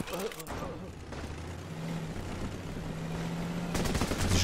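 Shotgun blasts in the Running with Rifles war video game: one sharp shot at the start and another near the end, separated by a low rumbling game backdrop.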